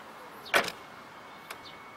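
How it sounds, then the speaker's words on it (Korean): Power tailgate of a Volvo V90 Cross Country D5 closing at the press of a button, a brief soft motor whir and latch thump followed by a faint second click, heard fairly quietly in an otherwise still setting. "테일게이트는 이쪽에서 이렇게 버튼을 누르면 닫을 수가 있습니다"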